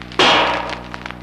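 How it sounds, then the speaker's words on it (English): A mallet strikes an uninsulated steel body panel of a Nash Lafayette car, giving one loud, sharp clang that rings on and slowly decays, with no talk over it. "that's how an uninsulated panel sounds when hit with a mallet."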